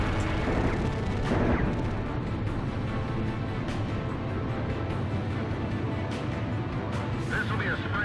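Constant anti-aircraft gunfire in Ace Combat Zero forms a dense, rumbling wall of continuous booming fire that never lets up.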